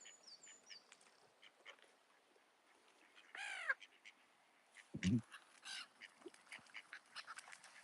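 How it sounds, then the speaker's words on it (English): Ducks on a backyard flock being fed, giving a few scattered harsh quacks and calls, one loud burst mid-way, with faint bird chatter around and no talking. "Yeah, you better get out of there, Mr. Duck"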